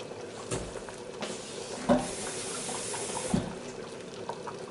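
Cold water running from a kitchen tap in a steady, soft hiss with a few faint clinks, fairly quiet and without talk.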